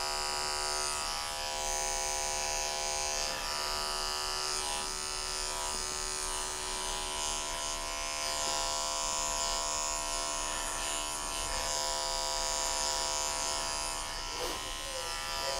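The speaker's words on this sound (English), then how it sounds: "I'm going back to my 30 blade, and I'm going straight to the 4 snap-on guard again, and we're just going to blend some of this hair." Electric dog clippers fitted with a 30 blade and a 4 snap-on guard grooming a Shih Tzu, a steady close buzzing hum running continuously, with faint handling noises over the motor.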